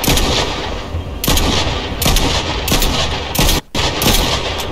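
Rapid, loud bursts of pistol gunfire from the Monarch in Fortnite, a string of close, sharp shots in irregular clusters with one brief gap near the end.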